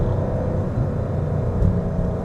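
Porsche 911 engine heard from inside the cabin, a steady low rumble and whir with no distinct revving, continuous and fairly loud, no talking.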